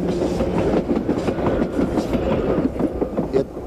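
An interurban train runs at the Illinois Railway Museum, giving a loud, steady rumble with continuous rail clatter, close by and without talking.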